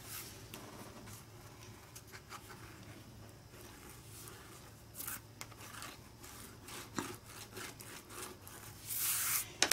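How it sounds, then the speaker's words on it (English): A book cover wrap is burnished down by hand with soft, repeated rubbing strokes that scratch faintly against paper at close range, growing louder and busier toward the end. "I want to burnish that down."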